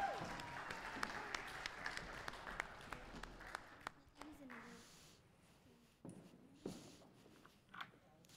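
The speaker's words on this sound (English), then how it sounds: "Let's give a big applause for our MCs." An audience at a Christmas play applauds with a burst of clapping that thins out and fades over several seconds, with voices in the room.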